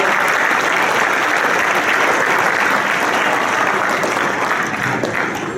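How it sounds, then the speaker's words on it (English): Loud, sustained applause from a large audience at an awards ceremony for a hospital burn center, thanking corporate sponsors; dense clapping fills the room evenly throughout with no speech over it. "Please give them a round of applause for their ongoing support of the Burn Center."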